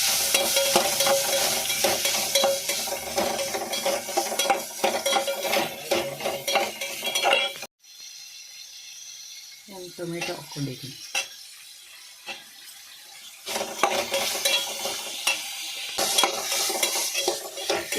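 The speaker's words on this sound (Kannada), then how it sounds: "ಚೆನ್ನಾಗಿ ಹುರ್ಕೋಬೇಕು ಬ್ರೌನ್ ಕಲರ್ ಬರೋವರೆಗೂ" Scraping and stirring of coconut roasting in a pan over a dry sizzle, with utensil clatter; a brief quieter pause midway before the stirring resumes.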